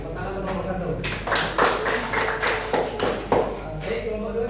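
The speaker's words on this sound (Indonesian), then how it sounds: "tepuk tangan untuk kelompok 1." Classroom applause for a student group during a microteaching lesson, a few bursts of uneven clapping from a small group of students that swell and fade in the middle, over steady room noise.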